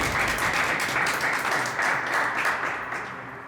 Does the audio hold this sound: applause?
yes